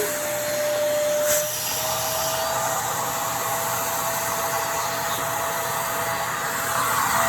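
Riccar vacuum cleaner running steadily at close range, a continuous loud whooshing roar with a sustained whine, unbroken for the whole stretch and with no voices over it.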